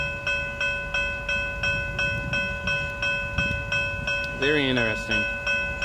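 BrightLine passenger train on a test run passing at Gregory Road, with a rhythmic clickety-clack of wheels over rail joints, a steady tonal hum, and a brief horn-like sweep near the end; someone speaks briefly.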